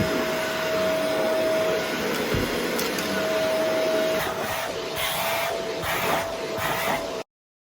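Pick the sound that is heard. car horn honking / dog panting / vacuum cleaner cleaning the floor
vacuum cleaner cleaning the floor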